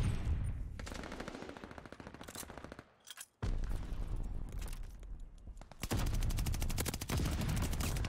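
A G43 rifle in a video game firing, heard as sustained loud, rapid gunfire in dense bursts with a brief pause near the middle, continuous and alone without talk.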